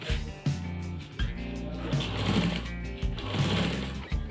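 A sewing machine stitching shirt fabric runs in short, close bursts of rapid mechanical clatter, pausing briefly between runs as the cloth is repositioned.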